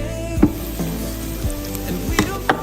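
Flatbread fries in a thin coat of oil on a preheated electric griddle, a soft continuous sizzle broken by a few sharp scraping clicks.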